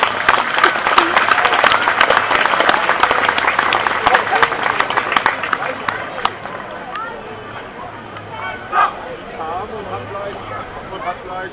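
Loud audience applause with dense clapping and crowd noise welcomes a band at a German club event, fading gradually toward the end with scattered claps and murmurs.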